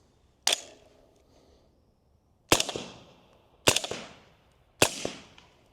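Four sharp suppressed rifle shots from an Omega 300 suppressor firing subsonic ammunition at gas setting 1, each a crisp crack with a short decaying tail, the first alone and the other three in a quicker series.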